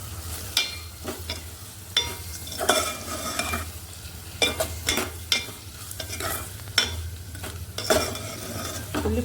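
Onions and garlic sauté in a pan for a tamarind-leaf curry, a steady sizzle broken by repeated scrapes and stirs of a spatula against the metal, close and moderately loud with no talking.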